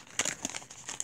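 A trading card pack wrapper, a dollar store pack, being cut and torn open with an extractor blade, giving a short burst of close crinkling and crackling plastic over about a second, with a few sharp rustles.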